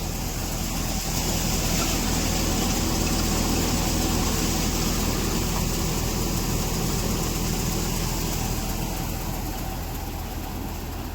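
A tractor engine, freshly serviced with a new elbow fitted, runs in a farm field with a continuous, even rumble, loud and close for the whole stretch, with no talking over it.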